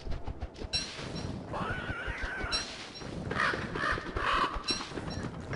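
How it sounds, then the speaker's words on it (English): Crows caw in the wintry survival game Don't Starve, with several harsh calls rising over a constant ambient game soundscape at moderate loudness, no talking. "Crows, lots of crows."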